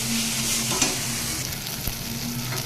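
Taro leaves (kochu shak) sizzle steadily in a kadai while being stirred. A constant close frying hiss is broken by a couple of sharp scrapes from the utensil, and no one speaks.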